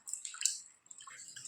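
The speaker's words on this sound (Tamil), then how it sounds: "தண்ணி சேர்த்துட்டு ஒரு 3-4 தடவை நல்லா பருப்பை கழுவி எடுத்துக்கோங்க" Lentils are rubbed and rinsed by hand in a bowl of water, giving soft, faint splashes and drips in uneven bursts with a short pause midway.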